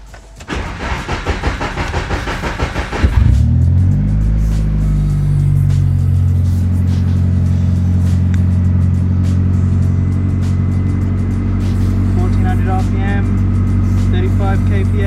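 A Nissan SR20 turbo engine fitted with a TD05 turbo and Maxx ECU cranks for about three seconds, catches, and settles into a loud, steady idle, with a person talking over the crank.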